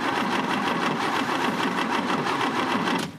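An Oldsmobile Cutlass engine with a freshly rebuilt carburetor cranks over continuously, making a fast, even mechanical chatter that holds at a constant level before cutting off at the end.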